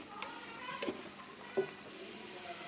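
Ginger-garlic masala paste with curry leaves and turmeric sizzles faintly in a pan, with a few soft stirring clicks over a low steady hiss.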